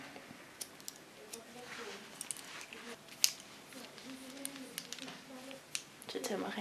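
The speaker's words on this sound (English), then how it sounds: "You can hear it, the scissors really working." Crisp scissor snips click repeatedly at an uneven pace, close and quiet, with soft murmured speech underneath.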